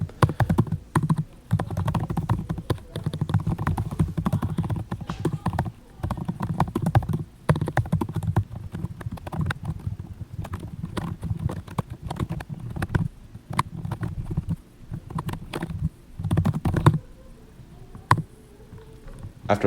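Keys clatter on a Dell XPS 13 laptop keyboard in quick irregular bursts, close and fairly loud, with short pauses between runs of typing.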